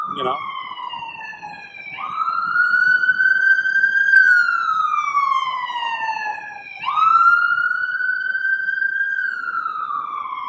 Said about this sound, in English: So the siren passes